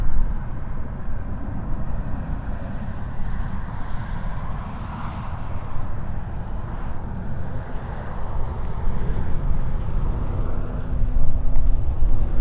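Jet airliner engines at Munich Airport produce a loud, steady low roar that persists and swells slightly toward the end, accompanied by wind buffeting on the microphone.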